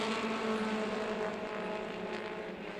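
Race cars with 2300 cc Ford 4-cylinder engines at Myrtle Beach Speedway, a continuous loud, buzzing engine drone that fills the whole moment at steady volume, no speech.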